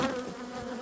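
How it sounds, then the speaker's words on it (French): A honey bee trapped inside a beekeeper's veil buzzes loudly and very close to the ear, a brief, tonal, wavering drone with no talk over it. "j'ai une abeille qui est rentrée dans le voile"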